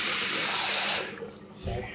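Scalding hot water gushes from a tap at full pressure, a loud steady rush that cuts off after about a second, leaving quieter trickling and faint room sound.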